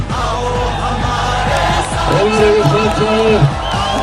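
A large political rally crowd at D-Chowk cheering and whooping, loud, continuous and dense, with shouting voices rising throughout.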